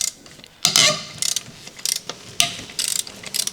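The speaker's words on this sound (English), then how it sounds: "Use a large 17mm deep socket paired with a large telescopic ratchet wrench." Ratchet wrench fitted with a 17mm deep socket loosening wheel lug nuts on a 2010 Honda Civic during a brake pad job: several close bursts of sharp clicking ratcheting, separated by brief pauses.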